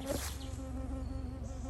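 Honeybees buzz steadily around a busy beehive in a small bee yard, forming a close, continuous droning hum with a sustained pitch.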